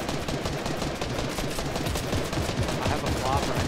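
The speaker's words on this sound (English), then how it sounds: "we're getting shot at" Gunfire in a battle royale video game, rapid dense rattling bursts of shots throughout at moderate level, with players talking faintly over the action.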